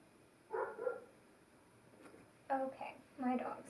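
Dogs bark in three short bursts, first alone, then two closer together, moderately loud against a quiet indoor room.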